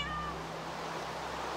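Indoors, a single short cat meow sounds at the start, faint against a low steady hum, then quiet background follows.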